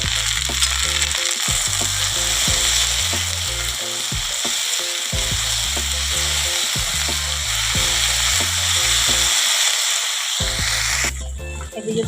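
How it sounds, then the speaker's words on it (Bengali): Okra and potato frying in a pan, a loud continuous hiss and crackle close by, with repeated rhythmic low scraping from stirring, nearly a dozen strokes, and a brief pause near the end. "আর এদিকে দেখো ভেন্ডি আলুটাও ভাজা হয়ে গেল, আরও ভাজবো"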